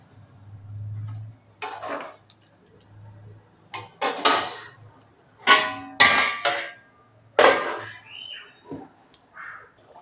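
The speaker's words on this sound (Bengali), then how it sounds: "একটু ভালো করে নেড়ে নেবো, একটু সিদ্ধ হতে দিই" Spoon scraping and clinking against a pot while stirring Bengali chicken curry, a series of irregular metallic knocks and scrapes over a low simmering hum, close and fairly loud, no talk.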